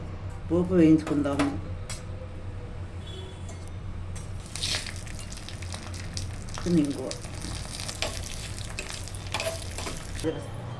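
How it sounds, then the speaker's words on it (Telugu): Tempering spices fry in hot oil in a pan for raw mango chutney, a steady close sizzle broken by stirring scrapes, with a voice talking at moments. "మామిడికాయ పచ్చడి కోసం పోపు వేయించుకుందాము"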